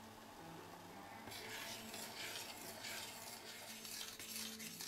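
A spoon stirs cocoa powder into boiling milk in a pot, a steady scraping swish against the metal over a faint background hum.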